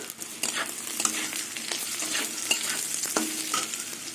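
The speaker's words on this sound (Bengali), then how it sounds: "এবার এর মধ্যে আবার সয়াবিন ভাজাগুলো দিয়ে দেবো" Soybean chunks fry in a pan with a steady sizzle, while a spoon stirs and scrapes them at irregular moments.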